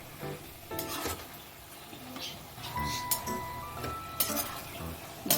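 Mint leaves sautéing in a pan for thuvaiyal, a village-style cooking scene: a soft sizzle under scraping and clinking of a spoon against the pan, with intermittent stirring strokes at close range.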